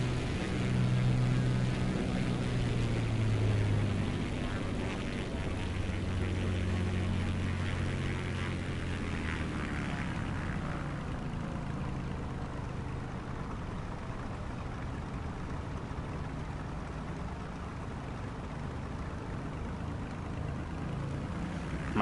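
In Microsoft Flight Simulator 2024, an airplane taxis on the ground with a steady low engine and propeller drone that eases slightly after the first few seconds, continuous and moderately loud, with no talking.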